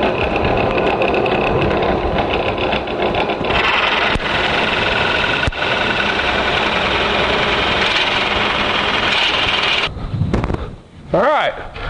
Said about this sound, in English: And let's drill our first hole.